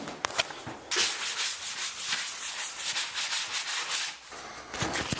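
Drywall imperfections on an office wall being sanded by hand: a steady, close, rasping rub of abrasive on gypsum in long back-and-forth strokes, heard alone.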